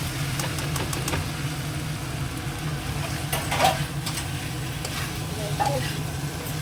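Spiced curry being stirred and fried in a pan, without garam masala, with a steady sizzle and repeated scraping strokes of the spoon running throughout at close range.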